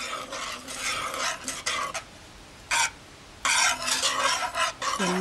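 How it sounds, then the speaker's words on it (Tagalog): Ube maja blanca mixture stirred continuously in a pot, a scraping, swishing rhythm in repeated bursts with brief pauses, close and fairly loud. "hindi po natin titigilan yung paghalo hanggang sa maluto siya."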